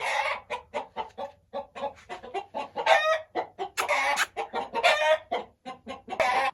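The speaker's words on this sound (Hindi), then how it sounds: "ये एक बड़ा पीला ब्रीडर मुर्गा खड़ा है माशाल्लाह" Close, loud clucking from a large yellow breeder rooster of the old Aseel line from Mianwali, a quick irregular run of sharp calls with a few longer drawn-out squawks, heard alone without speech.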